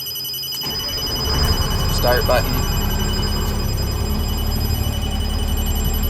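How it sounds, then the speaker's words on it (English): A steady warning tone sounds inside the cab of a Stewart & Stevenson water tender truck as the ignition comes on and air pressure is low, running continuously under engine rumble while someone talks. "That warning sound you hear is the low air warning."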